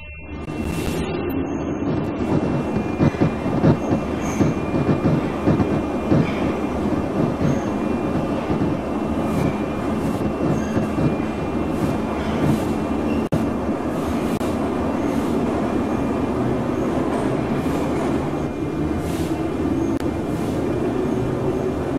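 A metro train arrives at a terminal station, with continuous loud rumbling and rattling carriages heard close up from inside and faint wheel clatter throughout.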